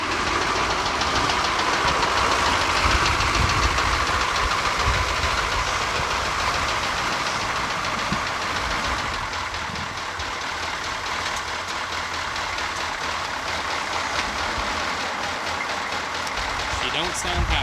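A 1985 Chevrolet Suburban with the 6.2 diesel runs rough and uneven, a loud close knocking engine drone that continues steadily throughout, with people talking faintly underneath.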